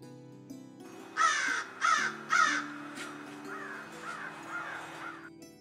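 Crows call outdoors in three loud, harsh caws in quick succession, followed by several softer, more distant caws with no talking.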